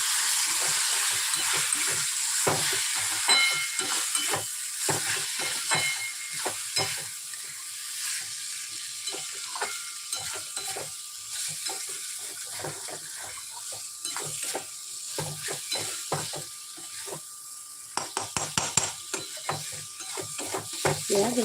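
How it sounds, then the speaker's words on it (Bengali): Spiced potato curry for aloo dum with raw chickpeas is stirred in a pan while salt, turmeric, cumin, coriander and red chilli powders fry, a steady close sizzle with scraping spoon strokes throughout. "লবণ হলুদ জিরে গুঁড়ো ধনের গুঁড়ো আর লাল লঙ্কার গুঁড়ো সেগুলো দিয়ে দিলাম দিয়ে ভালো করে নাড়াচড়া করে নেবেন"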